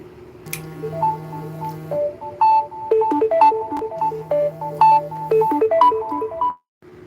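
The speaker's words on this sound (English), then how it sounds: "I actually had a phone call to come through." A phone plays a melodic electronic ringtone for an incoming call, bright repeated note patterns over a sustained low tone, loud and close, looping for several seconds before cutting off.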